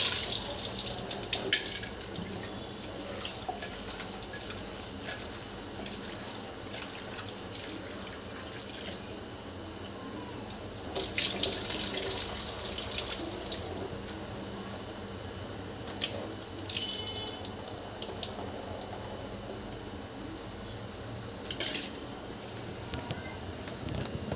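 Bitter gourd is washed under a running kitchen tap, giving a soft steady stream of water with louder splashing and handling bursts, faint and close, with no talk.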